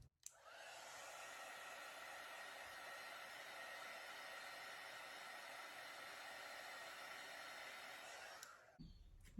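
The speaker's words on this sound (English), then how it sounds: "I'm going to hit it with the heat embossing tool" A heat embossing tool blows hot air over acrylic paint in a fluid-art pour, a continuous close, airy whoosh like a hair dryer lasting about eight seconds before it clicks off.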